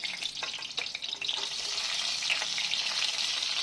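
Potatoes frying in hot oil in a pan, a close, steady crackling sizzle with a few sharper pops early on, heard alone without voices.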